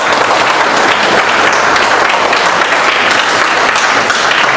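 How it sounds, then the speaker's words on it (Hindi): Loud, sustained applause from a seminar audience at a Vestige business meeting, dense and steady for the whole stretch with no pauses. "एक बार जोरदार ताली बजा दो जरा"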